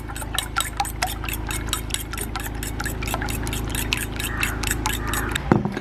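Eggs for a spicy egg fry are beaten briskly in a bowl, with rapid, steady tapping whisk strokes repeating close by over a faint low hum.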